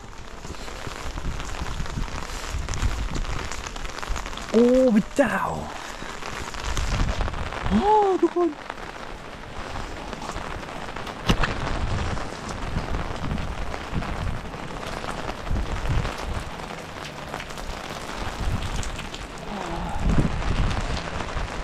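Heavy, steady rain falls with gusting wind during a days-long downpour, making a constant broadband hiss throughout. Someone talks intermittently over it.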